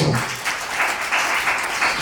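Audience applause at a ceremony honouring Kargil war heroes and martyrs, a loud, even wash of clapping from a crowd that pulses steadily throughout with no voices over it.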